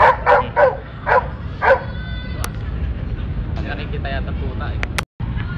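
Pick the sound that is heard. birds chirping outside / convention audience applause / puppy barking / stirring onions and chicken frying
puppy barking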